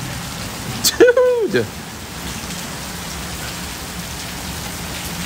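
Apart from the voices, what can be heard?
heavy rain pouring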